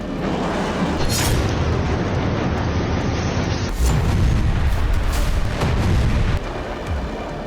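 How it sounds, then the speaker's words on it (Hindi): Missile strikes hitting a building in Gaza, with loud, continuous booming rumble and heavy blasts that swell and surge close by for several seconds. "IDF ने गाजा पर आसमान से मिसाइलें दागी तो एक इमारत पूरी तरह से तहस नहस हो गई।"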